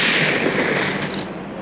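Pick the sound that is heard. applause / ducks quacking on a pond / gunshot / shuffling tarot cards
gunshot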